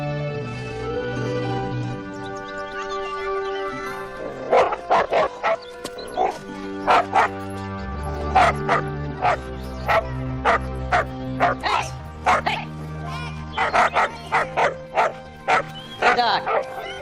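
A dog in a 2007 film yelps and barks in a quick series of sharp, close yips, whimpering between them over a musical score.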